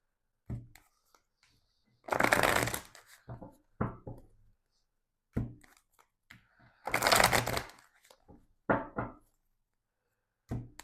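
Tarot cards being shuffled at close range in two longer riffling bursts, with scattered taps and short card flicks between them.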